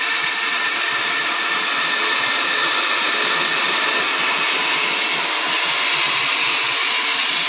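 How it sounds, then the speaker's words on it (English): Pressurized air or gas rushes through an opened ball valve as a loud, steady broadband hiss with no pauses or voices. "open the ball valve, and allow the pressure to flow through."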